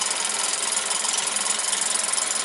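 A small electric motor with an 18:1 gear ratio, mounted in a Meccano model, whirs at a steady, even pitch during a bench test, close and constant throughout.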